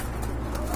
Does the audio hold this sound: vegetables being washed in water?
no